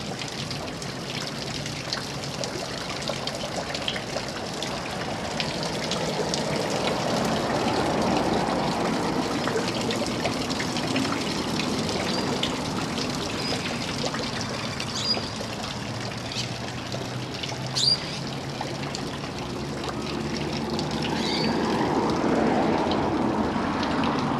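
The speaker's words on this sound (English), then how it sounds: "Try and get it just right where it shows the light on that water and dripping in that." Water dripping and trickling near a wharf in Innisfail, a continuous soft outdoor flow with occasional sharper drips, fairly close and steady, with no talking over it.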